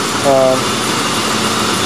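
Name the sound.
1995 Ford Crown Victoria engine running smoothly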